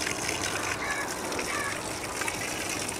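A steady, continuous pour of housefly attractant solution soaking into a bed of semi-decomposed organic manure for larva farming, a constant wet gushing hiss that never stops.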